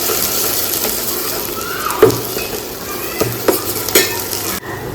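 Ginger-garlic paste being mixed in a hot pan with tomatoes and chillies, giving a steady loud sizzle with scraping, clattering stirs of the spoon against the pan, and no talk.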